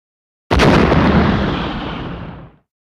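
Giant cannon firing in the Sonic Heroes video game: a single loud, sudden boom after a moment of silence, followed by about two seconds of rumbling decay that cuts off abruptly.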